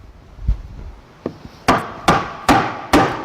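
A wooden barb dado joint is driven together with a few light taps, then four evenly spaced, sharp hammer blows on wood, close and loud with a short ring after each.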